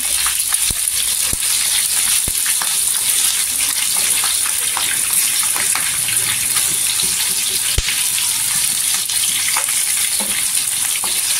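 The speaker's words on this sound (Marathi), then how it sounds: "मिरच्या पण छान असं तेलावर परतायची।" Green chillies fry in hot oil for a spicy Maharashtrian chilli bhaji, giving a loud, steady sizzle with occasional stirring scrapes and clicks throughout.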